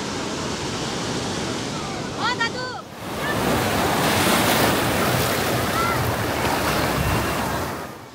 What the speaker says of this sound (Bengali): দেখো পুরীর সমুদ্রে যা ঢেউ,